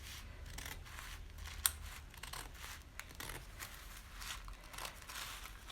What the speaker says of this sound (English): I'm just gonna fold it and cut along the folded edge